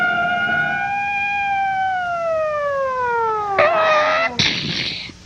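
A police car siren wails in a long, slowly falling tone, loud and fairly close, then breaks into short bursts of noisy clatter near the end.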